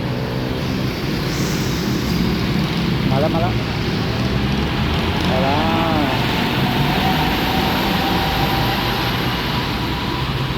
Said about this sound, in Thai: ดูรถไฟฟ้าอีกกระบวนหนึ่งฟาดผ่านนะ